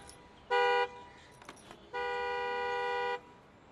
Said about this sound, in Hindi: मैडम ये हॉर्न की आवाज़ तो आपके गैराज से ही आ रही है।